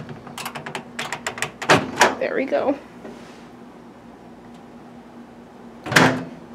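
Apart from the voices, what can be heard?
microwave door opening and closing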